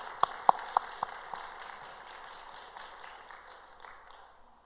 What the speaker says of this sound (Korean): 우리 하나님께 영광과 박수 한번 드리겠습니다